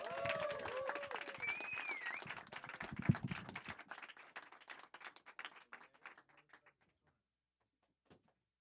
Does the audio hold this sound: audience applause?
yes